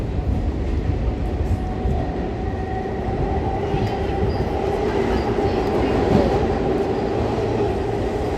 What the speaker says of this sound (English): I'm walking over a subway grate. That's what's all that noise about.